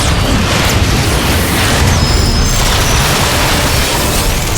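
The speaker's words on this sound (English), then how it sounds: "Airstrike commencing!" Airstrike explosions in the Transformers: Fall of Cybertron video game, a continuous loud roar of blasts and rumbling booms with no pause, dense and close throughout.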